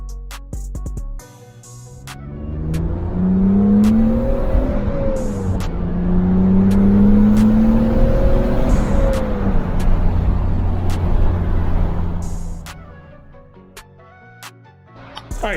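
A car driving off to warm its oil before an oil change, engine revving up and settling twice in smooth rising and falling sweeps, loud and close, with ticking clicks before and after.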